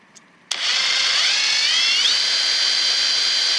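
A Kobalt 24V cordless impact driver spins up abruptly at speed setting 2, a close, loud high-pitched motor whine that rises slightly in pitch before holding steady, running freely without load.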